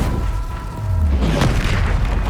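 A Bombarda spell explodes in Hogwarts Legacy, a deep, loud boom with a low rumbling swell that crackles and sustains for a couple of seconds against steady game ambience.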